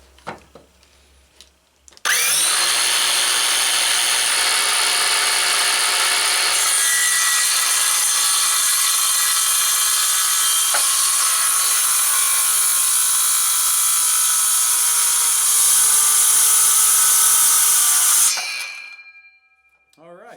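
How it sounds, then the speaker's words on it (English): A cordless power saw cuts steadily through wood for sawhorses for about sixteen seconds, a loud, continuous whining rasp that stops abruptly, with a brief spoken word before it starts. "Got a battery in the saw, and we can get started."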